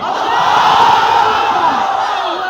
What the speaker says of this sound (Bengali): পুরোটা আওয়াজ ছিঁড়ে দিয়ে একটা তাকবীর হবে রেডি জোরে